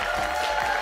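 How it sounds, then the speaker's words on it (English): Audience applause for Cassandra at a wine tasting and conversation event, a steady wash of clapping from the crowd lasting under a second with no break. "we also want to keep that applause going for Cassandra."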